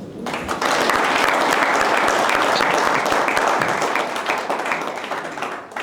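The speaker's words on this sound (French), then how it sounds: "Merci pour ces applaudissements" An audience applauds after a speech about the company Pharmakina, a loud, sustained burst of many hands clapping that swells quickly and holds steady before easing slightly.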